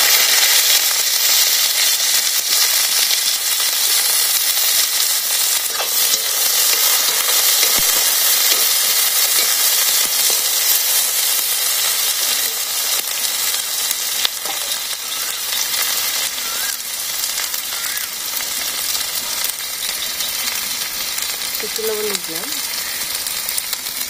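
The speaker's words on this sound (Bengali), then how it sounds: "রোলা দিয়ে দিব, উস্তে উস্তে দিয়ে একটু ভেজে নিই।" Bitter gourd fries in hot oil in a village kitchen with a loud, continuous sizzle and hiss throughout, broken now and then by faint knocks and stirring.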